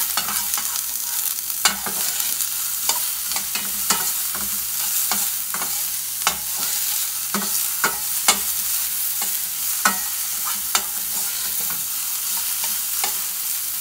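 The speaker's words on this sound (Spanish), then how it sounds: "Ahora vamos a poner a dorar la cebolla." Onion frying in rendered chorizo grease in a pan, a steady loud sizzle with repeated scrapes and clicks as it is stirred, no voices.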